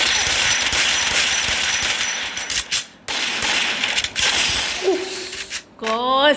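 Shotgun reloading in the mobile game Free Fire MAX, a dense run of loud mechanical clicks and clacks broken by brief gaps, with short whooshing game effects near the end.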